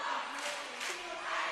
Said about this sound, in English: Big cheers.